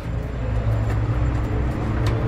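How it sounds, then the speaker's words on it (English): A cable car in Istanbul, Turkey glides along with a steady low mechanical rumble and hum, faint clicks and creaks, and soft rushing noise throughout; no voices. "First time riding the cable car in Istanbul,"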